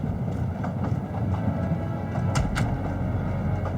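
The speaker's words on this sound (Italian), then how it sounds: "Pasquale, non hai visto ancora il treno Orient Express?" Orient Express train rolling along, a steady low rumble with faint clicking rail sounds and a couple of sharp metallic knocks.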